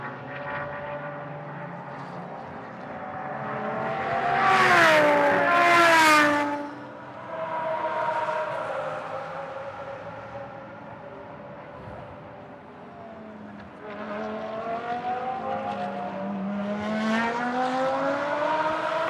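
The engine of the ISR Audi race car during Blancpain Sprint Series free practice in Moscow roars and whines through gear changes, rising in pitch as it passes loudly, then fading before building again.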